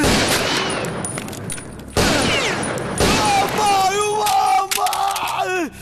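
Gunfire in a Kannada movie action scene: loud, sharp blasts and bursts of shots, followed by ringing, whistling tones and shouting from a crowd.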